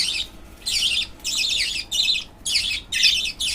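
Budgerigars squawking and chattering while feeding on fresh vegetables alongside love birds and diamond doves, bursts of shrill calls repeating in quick rhythmic groups, close and lively, no talk.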